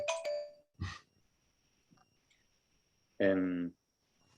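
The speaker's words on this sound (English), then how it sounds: "Looks like I have a phone call." A phone rings during a question session after a mathematics lecture: one short electronic ring burst with stacked tones, heard near and clear in a quiet room, with brief sounds from people earlier.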